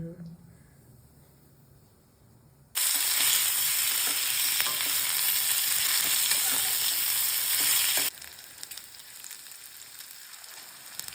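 Pork sizzles loudly in a hot pan, a dense steady hiss that starts abruptly after a quieter stretch, holds for several seconds, then drops back to a softer crackle.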